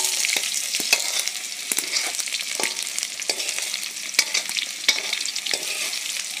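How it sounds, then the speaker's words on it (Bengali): Potatoes frying in a pan, loud and close, with a dense crackling sizzle broken by repeated sharp spatula scrapes and taps throughout. "আলুটা ভেজে নেই"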